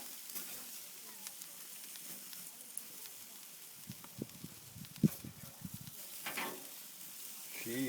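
Chicken tandoori sizzles over an open wood fire outdoors, a steady faint crackle and hiss with scattered louder pops and snaps from the fire, fairly close, with no talking.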